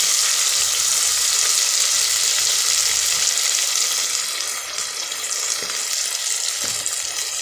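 Green peas frying in a pan with coriander leaves and ginger-garlic paste for a mango matar paneer biryani: a continuous close, loud sizzle with faint scraping stir sounds, no talking.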